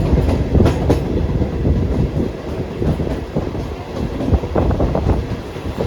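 Passenger train running on rails between Ekambarakuppam and Nagari, a loud, continuous rumble heard from inside with irregular clicks and clatter from the wheels, no talk.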